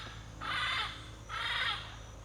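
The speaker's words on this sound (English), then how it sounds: "But listen to these birds." Crows cawing outside a tiny house, two long harsh calls in a row with a pause between, fairly close over a quiet low hum.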